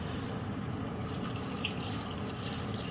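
Spring water pours steadily into a cooking pot while pig's trotters are prepared, a continuous close splashing trickle with no talk over it.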